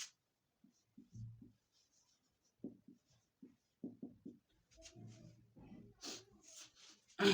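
Handwriting on a page, with soft scratchy strokes coming in short separate bursts between pauses, quiet and close, with a few louder taps near the end.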